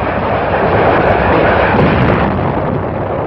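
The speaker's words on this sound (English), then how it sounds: "Guns of the 262-ship United Nations Armada began their point-blank preliminary bombardment." A loud, continuous roar of naval bombardment from the 1950 Inchon landing in the Korean War, booming blasts blending into a dense rumbling wall of noise.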